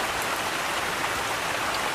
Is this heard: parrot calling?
no